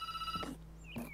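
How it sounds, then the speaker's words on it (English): A telephone ringing in the video game Reflections, with two short electronic ring bursts, fairly quiet and with no talk over them. "Oh, phone call."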